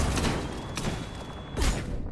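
A grenade explodes in the video game Mass Effect as a loud, rumbling burst, followed by a second booming blast about a second and a half later, both heavy and close with a dense low-end roar.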